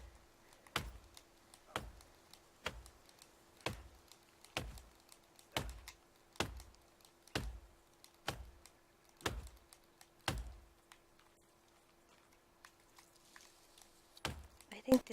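Keys on a computer keyboard are struck one at a time in an even rhythm during a session of The Forest. Roughly a dozen close, distinct clacks ring out about once a second over a quiet hum, followed by a pause and a few more taps.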